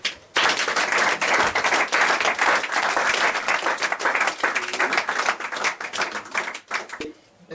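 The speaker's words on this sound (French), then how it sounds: "si ce public-là peut s'applaudir" A seated audience gives sustained, dense applause at a religious talk. It stays loud and steady for about seven seconds, then fades briefly near the end.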